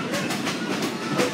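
Open-air train ride on the Wilmington Western Railroad, with a continuous rumble and rhythmic clickety-clack of wheels over rail joints heard up close from the car.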